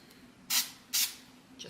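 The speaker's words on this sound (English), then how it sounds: "give them a little spray adhesive" Spray adhesive from an aerosol can is applied to small jewelry blanks on a paper towel in two short, sharp hissing bursts close by, over quiet room tone.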